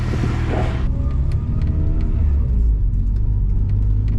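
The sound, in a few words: turbocharged car engine idling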